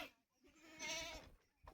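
Goats bleat near a village water trough as they drink, a clear wavering cry rising in the middle of the short stretch and fading out, with quieter rustling and shuffling around it.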